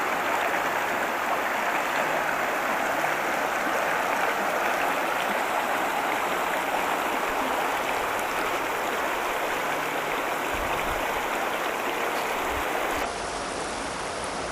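A river rushing past a campground day-use area, a dense steady roar of flowing water heard up close and loud throughout, unbroken and without voices.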